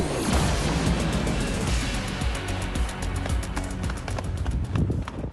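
Rapid, sharp balloon pops burst one after another over a loud, steady rumble aboard a chartered yacht on Biscayne Bay, some close and crisp, others more distant.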